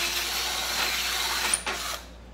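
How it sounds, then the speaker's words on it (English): A power drill with a larger bit whirs steadily at close range, boring a clay extruder die, then its pitch shifts briefly before it cuts off near the end. "I'm going to go to a little bit larger drill bit now"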